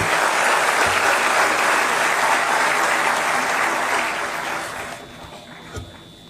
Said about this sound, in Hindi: जोरदार तालियों के प्रणाम निवेदित करते हुए